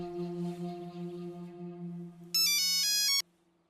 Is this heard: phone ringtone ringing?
yes